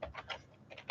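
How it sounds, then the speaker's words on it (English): Fingers tap a computer keyboard in a quick, close burst of about six clicks, light and slightly uneven, with a short gap in the middle and no talking. "I've got to stop typing in Cheops and type in Khufu."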